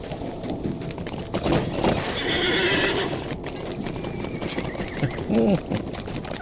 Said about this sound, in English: that's the noise of me getting on the horse